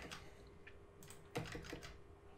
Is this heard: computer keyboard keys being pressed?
yes